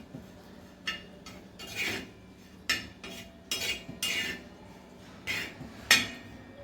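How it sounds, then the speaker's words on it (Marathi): Coconut is roasted in a flat tawa pan, with a run of scraping and clinking strokes from a metal spatula at an irregular rhythm over a faint background and no voices. "आता मी तव्यामध्ये खोबरं भाजून घेते।"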